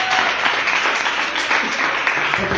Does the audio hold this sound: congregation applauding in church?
yes